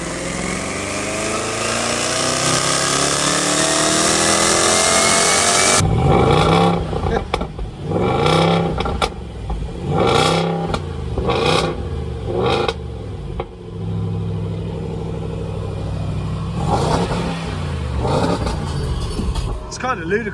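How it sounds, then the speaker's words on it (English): Range Rover engine on a dyno, winding up in a long, loud rev that climbs steadily in pitch, then cutting to a series of short, sharp revving bursts and pauses with voices talking between them. "I'm going to roll the footage here of Chris's car on the dyno"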